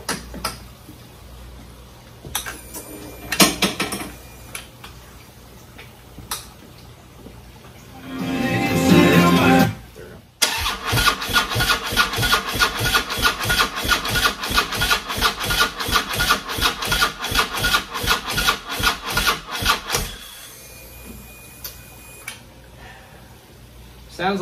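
A Harley-Davidson engine on a low battery cranks over with a fast, even rhythm of starter strokes lasting about ten seconds, loud and close, after a short burst of noise. It never catches, and soft background sounds fill the gaps before and after.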